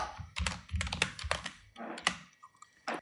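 Quick, uneven bursts of typing on a computer keyboard, close and crisp, with short pauses between the clusters of keystrokes.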